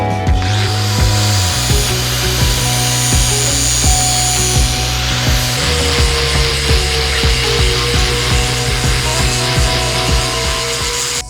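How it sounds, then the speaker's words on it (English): Angle grinder fitted with a grinding disc working a steel leaf spring held in a vise, a loud continuous whine with shifting pitch and scraping grit throughout, no talk. "just go over it with the grinder, start with the grinding disc, grind it, break our edges away"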